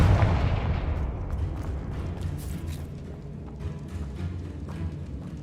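A Confringo blasting spell explosion in the Hogwarts Legacy video game: a loud boom at the start that rolls into a long crackling, rumbling tail of debris and game effects, with no talk.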